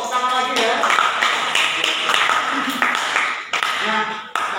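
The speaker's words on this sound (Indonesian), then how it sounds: "Tepuk tangan lagi ya" Classroom of pupils clapping together in praise of a classmate, a dense, steady patter of hand claps filling the room with a few scattered voices.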